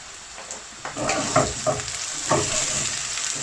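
Whole cardamom, cinnamon stick and black peppercorns drop into hot oil with browning onion for Rajasthani laal maas mutton, setting off a steady close sizzle and frying hiss, with a few stirring clatters as they go in.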